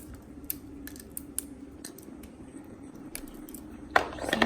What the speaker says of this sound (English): So you just want to crack it and then peel all of it